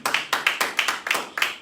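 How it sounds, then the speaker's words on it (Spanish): Church congregation clapping in steady rhythmic unison, about eight sharp claps in quick succession, close and fairly loud. "Fuerte el aplauso al Señor."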